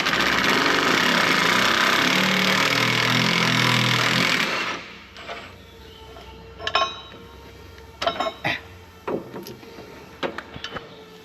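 Hard metal strikes ring out in irregular clusters on engine parts of a John Deere 850J dozer. A steady engine or machine drone fills the first few seconds and then cuts off, leaving the close hammer blows alone.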